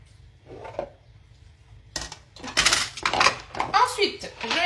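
Onions and mushrooms stirred together in a pan, with clattering scrapes and clinks of a utensil against the cookware that build in the second half, near and fairly loud, while a voice speaks briefly near the start.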